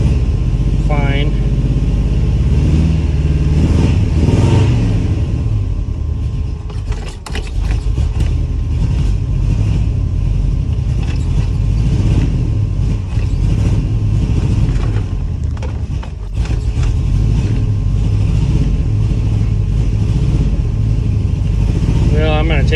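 A 1975 International 200 pickup engine idling as it warms up, a steady close low rumble that runs throughout, with someone talking over it most of the time.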